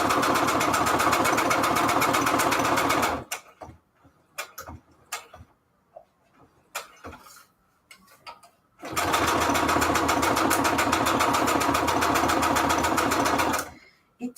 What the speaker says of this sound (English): So let's get to sewing.